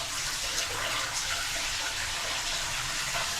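Hot water runs steadily from a household tap during a plumbing check, a continuous hissing gush close by with no voices over it.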